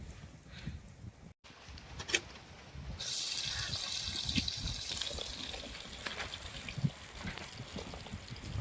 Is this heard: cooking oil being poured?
yes